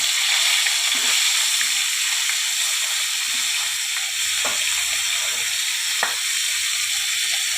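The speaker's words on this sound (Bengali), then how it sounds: "এই মাছের মাথাটা আমি উল্টে দিলাম।" Fish heads frying in hot oil in a pan after being turned over, a steady close sizzle with faint stirring and occasional spatters, no talk.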